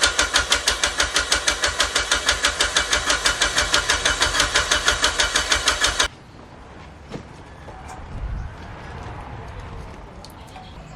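A Mitsubishi Evo 9 MR fitted with new GSC S2 cams cranks with a rapid, rhythmic starter chug for about six seconds, then cuts to quiet with faint knocks and a low rumble, heard close up.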